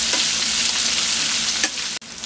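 Baby back spare ribs frying in hot oil give off a loud, steady hiss and crackle, with a brief burst of bubbling and a sharp break near the end.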